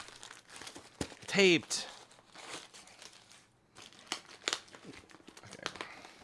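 Packing paper is crumpled and crinkled by hand while a knife is unboxed, with a loud crackling burst followed by softer rustles and tearing, close up, and a person briefly speaks between them.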